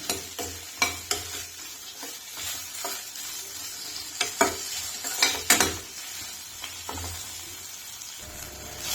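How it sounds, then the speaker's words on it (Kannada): Okra fries in oil in a pan over a low flame, a steady soft sizzle punctuated by repeated scraping and clinking as a spatula stirs against the metal, close and without talk. "ಇನ್ನೂ ಹುರಿಬೇಕು ನೋಡ್ರಿ ಫುಲ್ ಸಣ್ಣಂಗ ಉರಿ ಮೇಲೆ ಸಣ್ಣಂಗ ಹುರಿಬೇಕು ರೀ"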